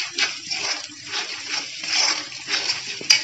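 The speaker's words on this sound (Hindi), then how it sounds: "और अब डालेंगे पानी" Water poured into a pan of dum aloo masala made with red chilli, coriander and turmeric powder, a soft splashing gush in short uneven bursts, fairly faint and close, with no talk.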